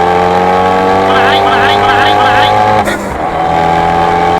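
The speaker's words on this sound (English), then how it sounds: "Brought the Ferrari out." A Ferrari sports car engine roars loudly and steadily close by as it drives past, with a rising high-pitched whine and a brief dip near the end.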